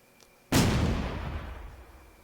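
A single heavy blast from a house fight in the Close Combat wargame, sharp and loud after a quiet start, its boom rumbling and slowly fading over the next couple of seconds.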